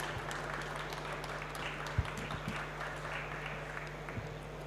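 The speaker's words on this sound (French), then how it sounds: "on va commencer par vous applaudir, mesdames et messieurs" Faint, steady applause from a conference audience after a talk, heard from a distance and lasting throughout.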